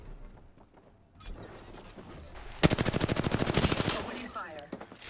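Rapid automatic gunfire from the shooter video game Apex Legends, a tight, loud burst lasting over a second after some quieter game sounds, followed by fainter scattered effects.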